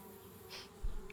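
Bees buzz around a beehive at a treehouse in the video game Anna's Quest, a faint steady drone at low level, with a brief low thump near the end.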